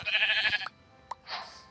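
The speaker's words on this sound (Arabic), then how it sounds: "اهو خروف." A sheep in the Minecraft video game bleats in a short nasal burst, followed by brief clicks and a second softer bleat, close and clear with no talking.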